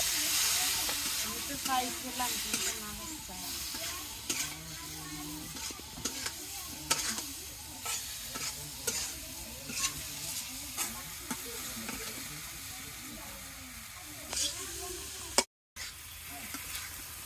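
Spices fry in oil while being stirred for a curry, a continuous hiss and crackle with rhythmic scraping strokes throughout, close and steady, with a brief dropout near the end.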